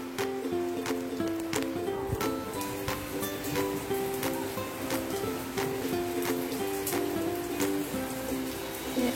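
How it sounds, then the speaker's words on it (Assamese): Heavy rain pours steadily outside a home with a veranda, a dense constant patter with scattered sharper drips, loud and unbroken throughout. "চাওক কিমান বৰষুণ বৰষুণ।"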